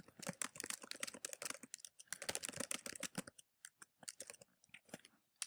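A quiz question typed on a computer keyboard, with quick bursts of close, soft key clicks, a brief pause, then scattered slower taps, quiet and with no talk.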